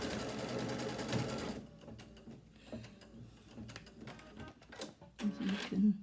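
An embroidery machine stitches a tack-down line across a second small piece of folded quilt fabric, a busy mechanical whir for the first second and a half that then gives way to quieter, intermittent stitching clatter.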